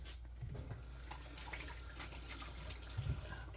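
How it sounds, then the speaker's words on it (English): Hands washed under a running kitchen tap, a steady close hiss and splash of water that runs on without a break, with a few small bumps and knocks. "I'm gonna wash my hands."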